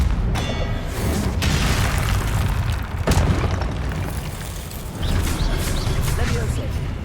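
Confringo blasting spell explosions in Hogwarts Legacy, a dense roaring burst with sharp cracks around the middle and again later, loud and close over continuous rumbling game sound.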